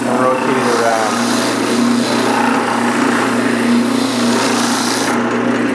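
A sanding machine spinning a black sandpaper disc gives off a loud, steady grinding whir with a rasping edge. It runs continuously, close up, and thins out just before the end.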